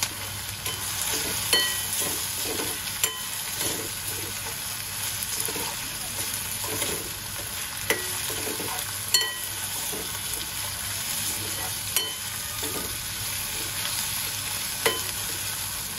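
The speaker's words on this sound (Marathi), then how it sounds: "आणि टोमॅटो एक मऊ होईपर्यंत छान परतून घेऊया" Tomatoes being sautéed and stirred in a pan, a steady close sizzle broken by regular scraping and tapping strokes of a spatula.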